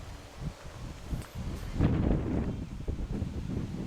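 Strong wind gusts outdoors buffet the microphone with low, uneven roaring and rustling that swells and fades over several seconds, with no speech heard.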